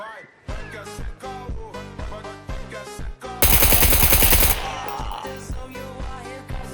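Video game gunfire crackles in quick single shots, then erupts into a dense, loud automatic burst lasting about a second before easing back into scattered shots amid other game sounds.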